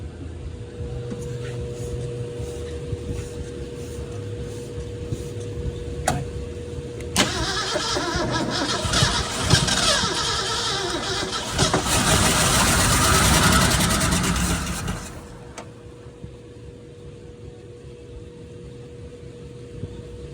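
A flood-damaged Ford Bronco engine cranks repeatedly with a droning starter whir, then a louder, rougher burst of engine noise that fades back to a low idle-like rumble, with voices heard nearby.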